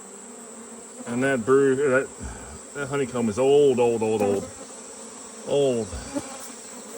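Bees swarm and buzz around an old honeycomb hive inside a big hunting house, a close, wavering drone that swells and fades in several uneven bursts with short quiet gaps.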